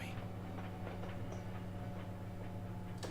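A train rumbles at a Paris depot in the game Valiant Hearts, a steady low mechanical drone with soft rhythmic clicks and faint clatter, moderately quiet and without speech.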